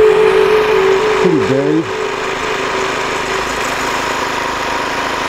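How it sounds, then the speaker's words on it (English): A snowblower engine runs with a loud, steady, buzzing drone outdoors during a heavy blizzard in Buffalo, holding an even pitch throughout while someone speaks briefly over it. "Jeff's out with the snowblower. Starting."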